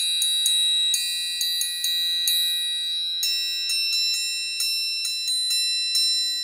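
A triangle is struck repeatedly with a beater in an irregular rhythm, each bright metallic ring sustaining and overlapping the next, close and clear with no talking.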